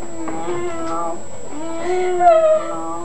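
A cat meows loudly and close up, several drawn-out wavering calls one after another, with a steady faint hum in the background.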